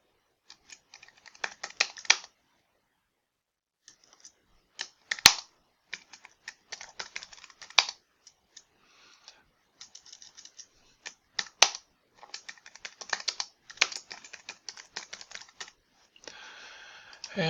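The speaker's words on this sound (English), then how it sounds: "So I'm going to type in this box." Keys clatter on a computer keyboard in quick irregular bursts with short pauses, close and fairly quiet, with no voices.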